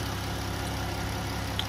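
Steady, even idle of a 2015 Dodge Grand Caravan SXT engine running smoothly, a constant low hum with no speech over it.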